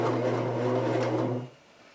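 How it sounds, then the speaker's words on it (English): A sewing machine winding a bobbin whirs steadily and loudly, then stops abruptly near the end, leaving quiet. "And continue to wind the bobbin until it stops."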